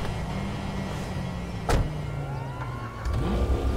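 Lamborghini Urus driven in a video game, a steady engine drone with a rising tone near the end and a short thump in the middle, at moderate level with no talk.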